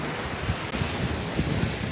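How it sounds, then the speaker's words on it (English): Strong wind roars over a rooftop during California wildfires, a dense continuous rush buffeting the microphone with low gusty rumbles, loud and unbroken. "It's still very windy."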